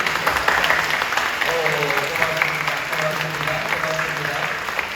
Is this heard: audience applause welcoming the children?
yes